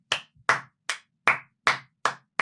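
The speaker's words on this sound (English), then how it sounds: "Everybody clap." Slow, evenly spaced hand claps, about seven crisp, sharp strikes spaced roughly 0.4 seconds apart, each separated by silence, close and clear with no talking, during a wrestling talk show.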